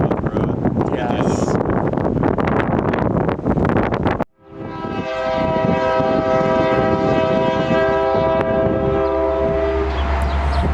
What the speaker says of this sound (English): Union Pacific 1031, formerly Southern Pacific 9790, passes through the area light engine